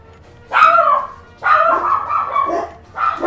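Dogs in the video game Lost Sphear bark in three loud, close bursts, each a sharp bark trailing into yips, separated by short pauses.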